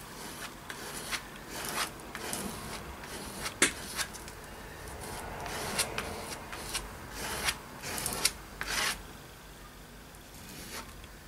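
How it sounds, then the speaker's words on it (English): Material is scraped and rubbed across a steampunk journal cover in short, uneven strokes, close and fairly quiet, with occasional sharper rasping scratches and no talking. "Scrape that down a bit."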